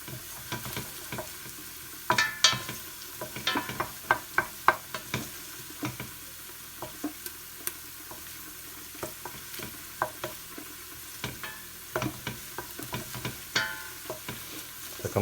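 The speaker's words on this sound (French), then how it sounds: "vous mélangez pour que les oignons commencent à brunir" Onions fry in a pan while being stirred, browning without salt. A soft sizzle runs under frequent sharp scrapes and clacks of the spoon against the pan in an irregular rhythm, with no talk.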